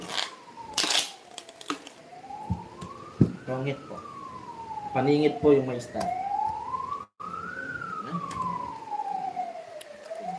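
A wailing police siren rises and falls in slow sweeps inside a Tongits card video game, heard alongside game clicks and chimes while people talk over it.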